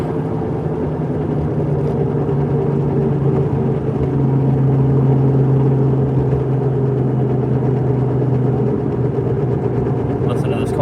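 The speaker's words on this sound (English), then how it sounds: "Listen to this car all day" A car engine hums at a low, steady drone from inside the cabin during a commute, holding an even pitch and level throughout.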